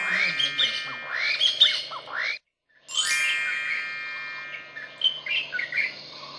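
Recorded wild bird calls: bright chirps, tweets and squawking notes crowd together in a dense chorus, broken by a short silent gap before a second stretch of layered calls resumes, fairly loud and close.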